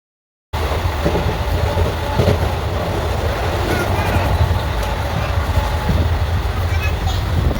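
A fairly empty passenger train runs along the rails, a steady loud rumble and rattle of the carriage filling the space continuously after a short silent start.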